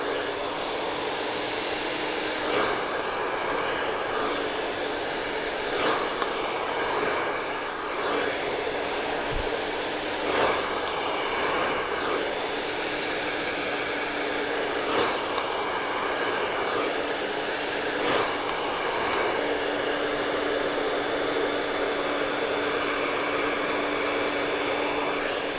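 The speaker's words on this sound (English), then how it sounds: "now you could see that I'm working with the brush, with the blow dryer working underneath this section" A blow dryer used with a round brush to dry a section of hair, a loud steady whine and whoosh that runs continuously, its airflow briefly shifting in tone several times as the dryer is moved about.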